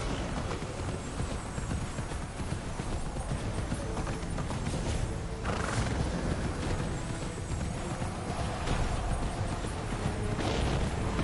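A horse gallops in the video game Immortals Fenyx Rising, a dense steady clatter of hoofbeats running continuously throughout, loud and close with no clear neigh standing out.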